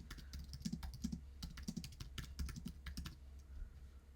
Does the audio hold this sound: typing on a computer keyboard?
yes